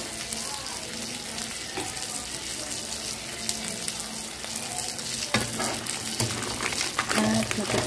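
Fish fries in a pan for a simple home-cooked dish, giving a steady sizzle with occasional spatter and clatter throughout, close and moderately loud, with what sounds like running tap water in the background.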